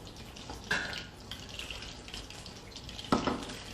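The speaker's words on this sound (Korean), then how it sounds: "40팩 우림을 한 800, 800cc 정도 여기다가 딱 부어주세요" About 800 cc of broth is poured into a pot for crab soup, a soft, close liquid splash with two brief louder gushes, alone without speech.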